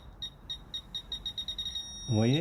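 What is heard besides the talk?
metal detector beeps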